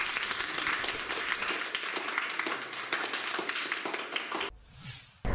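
Applause for eighth-grade students at a school event in Prešov, a dense burst of many hands clapping for several seconds that cuts off abruptly near the end.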